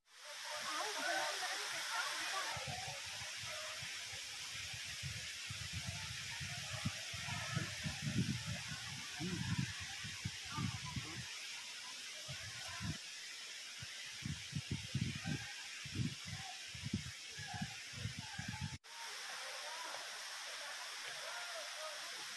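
Bee Falls waterfall at Pachmarhi, a steady broad rushing hiss of falling water throughout, with someone speaking over much of the middle section.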